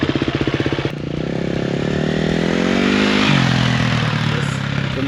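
Motocross dirt bike on a practice ride, loud and close: a brief rhythmic idle putter, then the engine revs up hard and holds a strong, rising roar with a gear change partway through.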